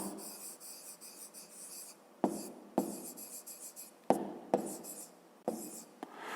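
Handwriting an answer, apparently pen on paper, makes a steady close scratching rasp broken by several sharp taps and pauses as the pen lifts and sets down.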